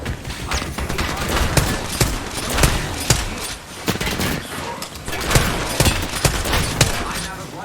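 Rapid bursts of automatic gunfire and scattered single shots from an Apex Legends match crackle loud and near almost without pause, layered with game effects and voices talking over the fight.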